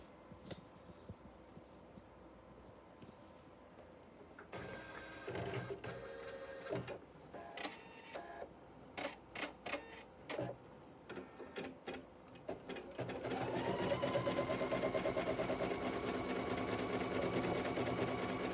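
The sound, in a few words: embroidery sewing machine quilting a flying geese block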